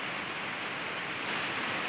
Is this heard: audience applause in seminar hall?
no